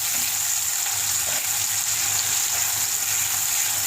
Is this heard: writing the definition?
no